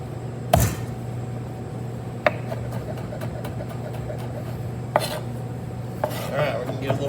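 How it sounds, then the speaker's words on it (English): A chef's knife chops smashed garlic on a cutting board in a kitchen, a few sharp, sparse knife taps spaced a second or more apart over a steady low hum. "Then you can take it and just chop."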